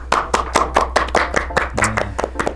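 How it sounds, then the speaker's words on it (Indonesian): Audience applause at an education podcast event, a short burst of brisk claps from a small group, close and fairly loud, lasting a couple of seconds. "Kasih aplaus dulu."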